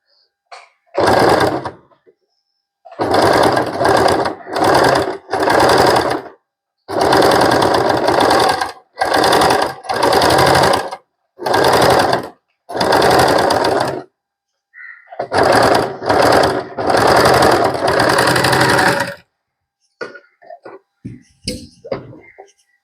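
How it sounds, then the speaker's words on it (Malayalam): A sewing machine fitted with a ruffler foot stitches frills in repeated loud, close bursts of running. Short pauses separate the bursts, and the machine runs alone with no talking. "അതിനുശേഷം ലിവർ ഒന്ന് താഴ്ത്തി കൊടുക്കാം. നമുക്കിത് സ്റ്റിച്ച് ചെയ്തെടുക്കാം."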